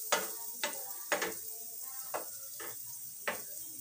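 Garlic sizzles steadily in a hot pan, with about six sharp scrapes of a spatula stirring it at a loose, irregular rhythm, close and fairly loud over a constant hiss.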